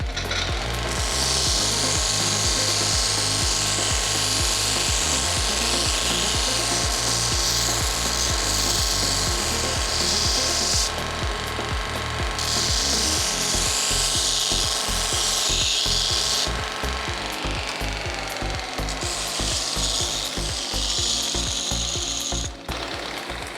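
Belt grinder running a worn, fine Scotch-Brite belt for polishing in a workshop, a loud continuous mechanical whir with a rapid rhythmic ratcheting pulse and shifting hiss as the work is pressed on and off the belt.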